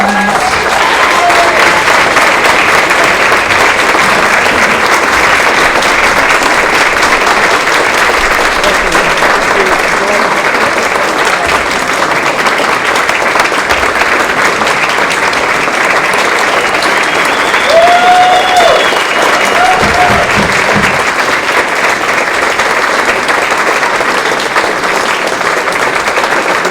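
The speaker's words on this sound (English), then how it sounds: "They deserve our gratitude and our round of applause" Sustained applause from an audience at a town meeting, steady and dense clapping filling the room for the whole stretch, with faint voices mixed underneath.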